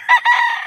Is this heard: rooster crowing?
yes